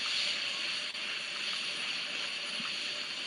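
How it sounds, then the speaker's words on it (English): Sound suppression water flowing at a rocket launch pad before a NASA launch with RS-25 engines, a steady broad rushing hiss, loud and unbroken throughout. "Sound suppression water is flowing."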